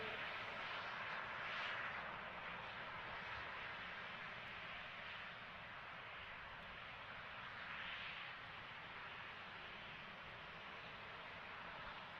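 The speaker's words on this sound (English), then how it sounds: "And we have stage 2 engine ignition." Rocket second-stage engine firing just after ignition on the DSCOVR launch, a steady, unbroken broadband roar that holds at an even loudness for the whole stretch with no voices over it.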